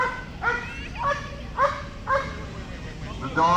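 A police K9 dog barks during a sheriff's deputy demonstration, giving five or six sharp, yelping barks at a steady pace, close by, while people talk over them.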